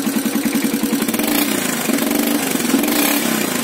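Smoky Suzuki-style AG200 motorcycle engine idling steadily, a close, loud, even low thumping rhythm with no voices.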